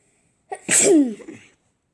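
A single close, loud sneeze with a sharp inhaled buildup and a forceful burst, then quiet.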